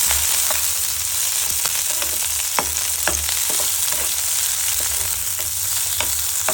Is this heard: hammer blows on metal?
no